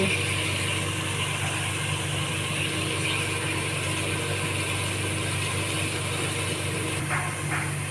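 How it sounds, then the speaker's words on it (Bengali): A generator runs through a power cut with a steady, even mechanical hum and rattle, constant in level across the whole stretch, with no voices. "কারেন্ট চলে গেছে, জেনারেটর শব্দ হচ্ছে।"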